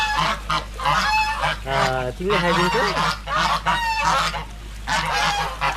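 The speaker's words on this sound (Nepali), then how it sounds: "कति हल्ला गरेर हाँसहरू" Ducks or geese honk loudly and repeatedly at close range in a park at Bukit Jelutong, with overlapping harsh calls and a person speaking briefly among them.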